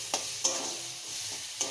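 Pointed gourd with garlic paste is stirred and fried in a pan, making a continuous close sizzle broken by several sharp scraping stirs.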